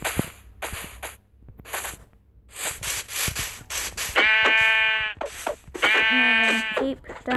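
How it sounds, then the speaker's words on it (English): A sheep in Minecraft bleats twice in long wavering calls, loud and close, after a run of sharp clicking and swishing game sounds. "And there's a sheep over there."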